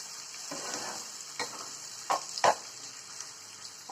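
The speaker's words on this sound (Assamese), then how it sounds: "সৰু সৰুকৈ কাটি লোৱা জলকীয়াখিনি সেই তেলতে ঢালি দিব। ঢালি দি ইলুটি কৰি দিব।" Finely chopped bhut jolokia chillies sizzle in hot oil for an Assamese chilli pickle, a steady frying hiss broken by a few sharp scrapes and knocks of stirring, fairly faint and with no talk.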